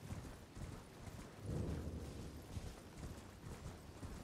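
Horse hooves gallop in a steady clip-clop rhythm in the video game Elden Ring, fairly close and low, with no talking over them.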